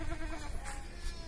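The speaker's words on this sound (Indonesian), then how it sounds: "Nah, ini kambing bur yang dulu sempat hilang." Boer goats in a group pen bleat, a wavering nasal cry over a busy background of barn noise, close and moderately loud.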